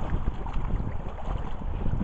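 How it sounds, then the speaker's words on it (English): Wind at a lakeside campsite buffets the microphone in a steady low rumble with gusty swells, loud and close, no voices. "it is pretty windy"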